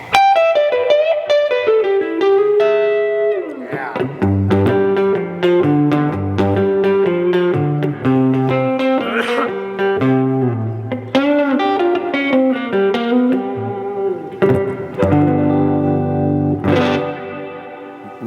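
A Heritage electric guitar rings through an amp with its reverb turned up high, sustained distorted chords and single notes washing into long echoing tails, loud and continuous with no voices.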